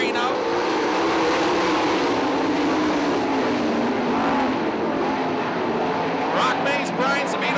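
410 sprint cars roar back to speed on a single-file restart at Attica Raceway Park in Ohio. Several engines blend into one loud, continuous wall of sound, with a rising whine near the end.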